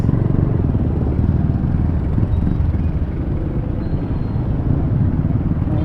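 Heavy street traffic near a school, congested with motorcycles and cars, gives a continuous, close rumble of idling and creeping engines that holds steady throughout.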